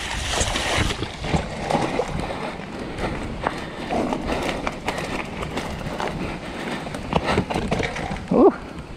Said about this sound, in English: It's kind of fun because you can kind of actually ride through the creek.